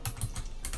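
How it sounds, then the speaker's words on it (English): Rapid clicking keystrokes on a computer keyboard, several quick taps close up with no talking. "I'll just type in XLBot"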